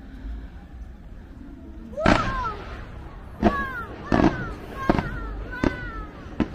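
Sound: fireworks display over a replica Sydney bridge

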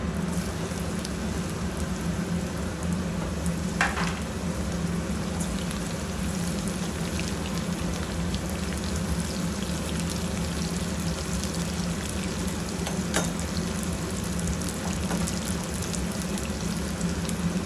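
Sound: bitter gourd pieces frying in a pan

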